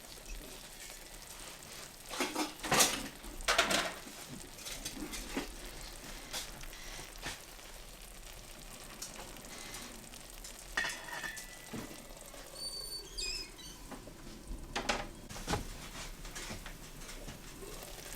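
Shakshuka simmering in a covered pan, with eggs setting in the sauce, gives a soft, steady sizzle and crackle, broken by a few louder clatters and bumps nearby.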